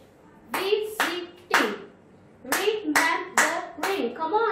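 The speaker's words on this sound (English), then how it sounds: "whenever you are getting the syllables, try to clap it" Hands clapping in time with spoken syllables of words in an English lesson, sharp claps in short clustered groups of two to four, each landing with a voice sounding out the word.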